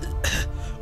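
A single short, harsh cough from a former cigar smoker who quit three years ago, heard close up in a Malayalam film scene over a low background hum.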